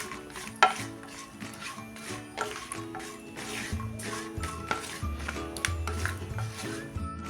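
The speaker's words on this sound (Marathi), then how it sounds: "हे चांगलं लालसर होईपर्यंत तळून घेऊया।" Sliced coconut frying in a pan for jaggery and poha laddoos, with soft sizzling under repeated scraping and stirring strokes of a utensil against the pan, close and fairly quiet, with no talking.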